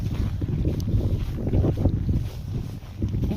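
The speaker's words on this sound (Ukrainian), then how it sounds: "Появився такий прям досить сильний вітер." Strong winter wind roars and buffets steadily, a low rumbling gust noise filling the whole clip.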